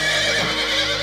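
A horse neighs loudly and close in a dramatic period film trailer set around a wild racehorse, the whinny filling the full second over a steady background.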